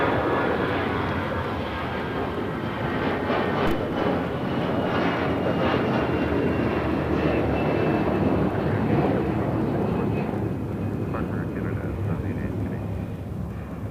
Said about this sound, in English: This is Air Canada 788 taking off to Toronto on an A321.